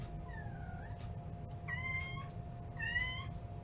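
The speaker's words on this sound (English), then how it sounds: "Oh, I have a kitten in here who's crying." Small kitten crying indoors with several thin, plaintive meows in quick succession, faint and somewhat distant over a low steady hum, no talking.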